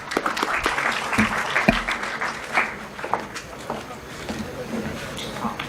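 Moderate applause from a conference audience at an entrepreneurship and innovation conclave greets a speaker walking on stage, with scattered claps and thumps that thin out over a few seconds, with some talk underneath.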